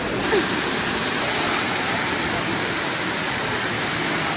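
Dalagaan Falls, a waterfall on Siquijor, roars as a steady, broadband wash of falling water. It stays continuous and fairly loud throughout, with no clear voices over it.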